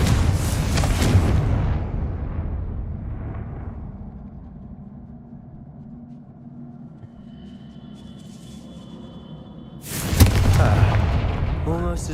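Confringo fire-blast spells in Hogwarts Legacy erupt as loud booming explosions, one at the start that rumbles and fades over several seconds and a second sudden blast near the end.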